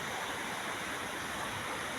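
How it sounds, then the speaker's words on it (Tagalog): A river flows beneath a bridge in a rural area, giving a constant, dense rush of water that holds at an even level throughout, with no voices over it. "Ayan, ilog oh. Yan, ang ilog. Ito sa tulay."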